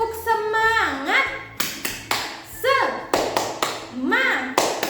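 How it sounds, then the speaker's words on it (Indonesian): A group of children performs a rhythmic classroom clapping chant, sharp claps in patterned bursts alternating with sung and chanted voices. "kita sama-sama dulu tepuk semangat"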